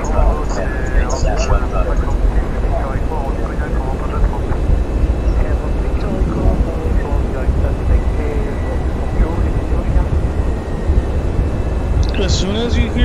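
A Boeing 737 takes off in a flight simulator game, its engines giving a steady, loud roar that holds throughout while a person talks over it.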